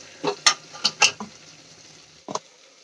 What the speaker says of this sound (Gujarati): વચ્ચે વચ્ચે આ રીતે હલાવતા રહેવાનું જેથી કરીને નીચે ગ્રેવી આપણી ચોંટવા ન લાગે તો બે મિનિટ માટે આપણે આ રીતે સાંતળી લઈશું